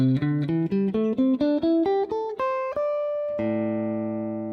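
Single guitar notes picked in a quick ascending pentatonic scale run, each note distinct and clean, ending on a held chord that rings out without resolving.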